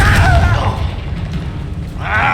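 Confringo fire spell blasting in Hogwarts Legacy, a loud low boom with a rumbling tail lasting about two seconds, followed by a bright magical burst near the end.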